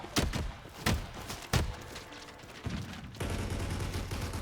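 A VSS rifle fires in the shooter game Wraith Ops, a few sharp separate shots early on followed by denser, continuous game noise, fairly close and loud.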